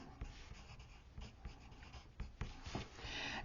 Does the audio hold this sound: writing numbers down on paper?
yes